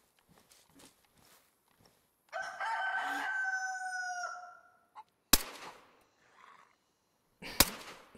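A rooster crows loudly and close by in the survival game DayZ, one drawn-out call lasting about two seconds, followed by sharp cracks and scattered footsteps.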